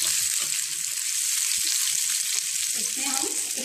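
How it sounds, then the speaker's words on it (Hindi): Chinese bhel being stirred in a hot pan, a continuous loud hiss of frying with soft scraping stir sounds underneath, no speech. "इसको अच्छे से हिलाएंगे।"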